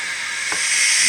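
A steady, loud hiss of steam from a sound-fitted Bachmann NG7 Quarry Hunslet model locomotive, broad and continuous, with a faint brief knock partway through.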